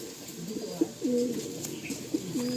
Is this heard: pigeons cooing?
yes